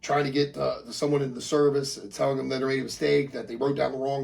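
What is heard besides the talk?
No distinct noise like a dog, phone or traffic.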